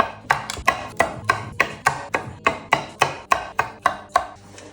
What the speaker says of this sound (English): Start by chopping the stem off, cutting most of these little big chunks off